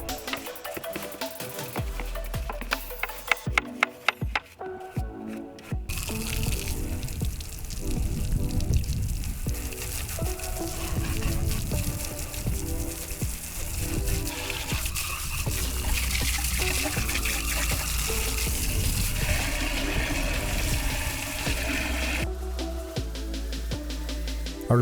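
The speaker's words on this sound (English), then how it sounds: "I took the opportunity to rinse out the upper intake manifold to remove as much of the carbon buildup as possible" Water rinsing carbon buildup out of the upper intake manifold of a 23-year-old truck, a continuous splashing, trickling flow that runs steadily, with no talking.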